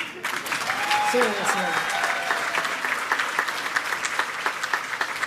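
A banquet crowd at a scholarship celebration dinner claps in a sustained, dense round of applause with a few louder individual claps throughout; a brief spoken word appears near the start.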